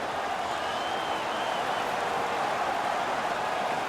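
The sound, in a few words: hockey home crowd cheering after a fight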